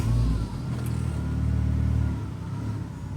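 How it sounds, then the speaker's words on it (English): A Renaultsport Megane 225 with keyless start fires up close by, a low engine rumble that holds through the whole moment, then drops into a steady idle. "We'll get it started up."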